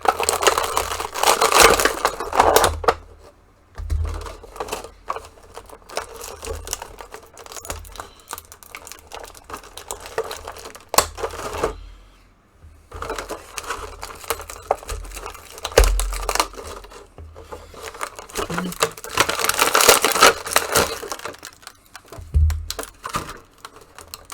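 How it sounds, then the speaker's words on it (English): Plastic packaging crinkles and crackles in bursts while Marvel Legends Infinity Saga Iron Man 3 figures are pulled free during unboxing, close and busy with short pauses between handling. "when all the plastic is making noise because we're trying to get the figures out"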